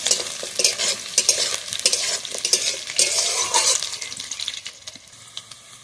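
Cubed potatoes fry with onion and green chilli in hot oil while a spatula scrapes and stirs the pan, a steady close sizzle broken by repeated clatter and scraping, no voices.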